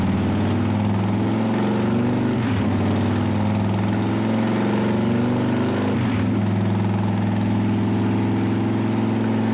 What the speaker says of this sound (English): Let's bring the engine up to highway speed